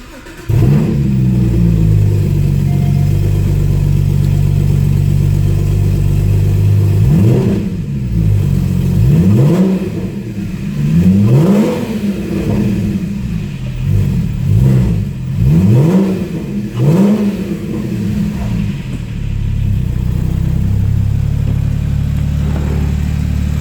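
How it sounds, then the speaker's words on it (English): A 2016 Porsche Cayman GT4 with a 3.8 liter engine starting up and settling into idle, then several loud, close revs that rise and fall in quick succession before returning to a steady idle. "So let's go ahead and start this guy up and see how she sounds."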